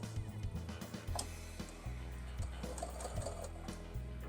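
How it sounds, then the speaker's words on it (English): A sewing machine stitches along a fabric bookmark and finishes with a quick back stitch, its motor hum running in short steady bursts with brief pauses, close and fairly quiet. "Stitching along that way, we get to the end, do a quick back stitch"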